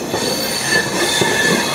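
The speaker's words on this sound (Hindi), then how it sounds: "मिर्ज़ापुर से ट्रेन निकल गई है" A passenger train pulls out of Mirzapur station, heard from on board as a loud steady rumble with faint high wheel squeal and no voices.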